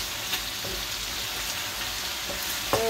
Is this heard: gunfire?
no